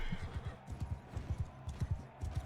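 Horse hooves clatter in a steady galloping clip-clop during a tournament fight in Mount and Blade II: Bannerlord, rhythmic and moderately quiet over a soft ambient hiss.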